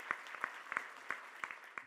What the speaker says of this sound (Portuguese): aplausos para os nossos painelistas, os nossos panelistas